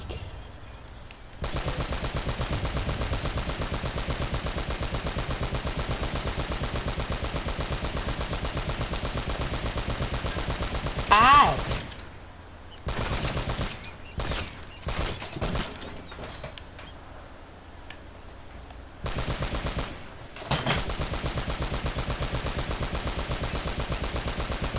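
Mounted machine gun firing in an Uncharted game, long sustained bursts of rapid loud fire that break into shorter stuttering volleys before resuming.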